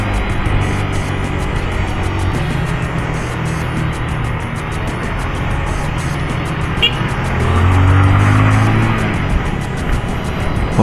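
Cars pass along a roadside near graves, a continuous close traffic roar with engines swelling and fading as vehicles go by and one louder pass near the end. There is no talking.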